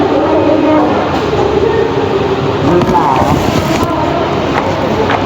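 Train rumbling steadily at a railway station, loud and continuous with a broad roaring wash, with faint voices in the background.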